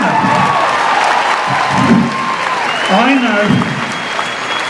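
Spectators at a dressage show applaud, a moderate burst of clapping and some cheering mixed with a voice talking over it.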